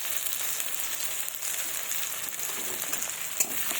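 Onion frying in a pan with a little salt while a small fish and broccoli curry is prepared, a steady soft sizzle hissing evenly throughout at close range.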